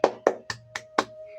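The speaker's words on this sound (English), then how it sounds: "Claps, claps." Five distinct hand claps in an even, slow rhythm, close and crisp, with a faint steady hum underneath.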